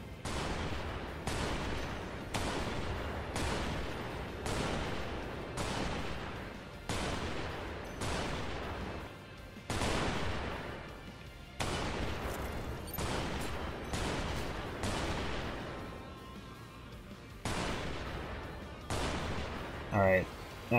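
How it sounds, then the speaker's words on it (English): Repeated bursts of gunfire from a flying craft in the video game Strike Vector EX, shooting up fuel tanks in the Syndicate Stadium arena, sharp, loud and rapid, in clustered volleys that sound like a fusillade with explosive impacts. "I'm going to go in here now and start shooting up some fuel tanks"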